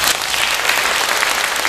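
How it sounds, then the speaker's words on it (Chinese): Audience applause at a choir gathering and talk on emotional support, steady broadband clapping filling the whole short stretch, fairly loud and close with no voices over it. "那我们给他鼓掌一下啊"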